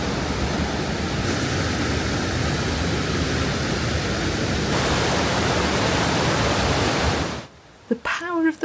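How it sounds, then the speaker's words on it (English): Waterfall swollen with snowmelt water roars over the edge in a dense, loud, continuous rush with no breaks, then cuts off abruptly near the end, leaving brief faint sounds. "The power of the water is immense as it pushes its way over the edge. The noise is deafening."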